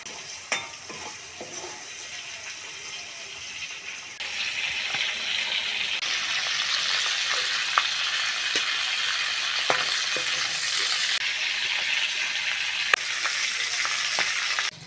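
Prawns frying in hot oil, a steady close sizzle with occasional sharp pops and spatters, growing louder partway through and continuing without any talk.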